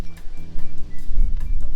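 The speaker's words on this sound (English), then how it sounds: "It's sort of been on and off, the wind." Gusty outdoor wind buffets a cooking spot where pork belly is prepared in a hobo oven, rushing in loud, uneven surges with a low rumble throughout and no voices.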